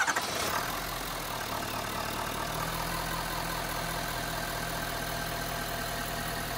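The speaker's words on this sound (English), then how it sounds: "This vehicle, for being a diesel, is really quiet." A 2019 Ford F350 diesel pickup idles steadily with the hood open, a low, even engine rumble with light ticking running continuously throughout, close up and without anyone speaking.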